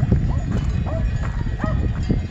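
Cattle on a traditional transhumance drove route toward Guadalaviar walk along, their hooves clopping in a dense, irregular patter close by, with people talking over the steady shuffle.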